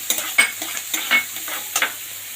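Carrots frying in hot oil in a pan while stuffed pointed gourd dorma is prepared, with soft sizzling and several light stirring scrapes at an uneven rhythm, close by and fairly quiet, with no talk.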